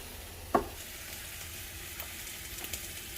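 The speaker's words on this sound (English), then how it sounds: "let this continue to cook until the liquid has evaporated and it starts to sizzle and brown" Ground beef bulgogi sizzling and browning in a pan, a steady close frying hiss with a sharp clink of stirring near the start and a few faint scrapes after.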